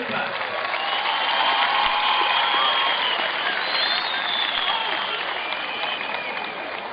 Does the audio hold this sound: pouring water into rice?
no